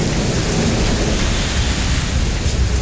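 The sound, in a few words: thunder and heavy rain in Delhi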